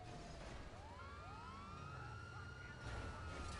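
Police car sirens wail in Grand Theft Auto V, several overlapping rising and falling tones sweeping continuously over a low engine rumble during a chase involving a tow truck.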